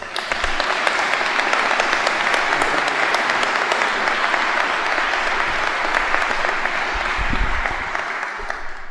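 Audience applause welcoming Snap-on Tools CEO Nick Pinchuk at the grand opening of an Advanced Propulsion Lab, steady loud clapping from a full room that holds for the whole stretch.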